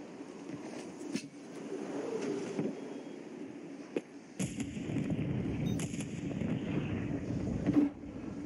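Grenade blasts and gunfire in a battle royale video game, several sharp booms and cracks over a low rumbling backdrop, with a heavier stretch of explosions in the second half, fairly faint overall.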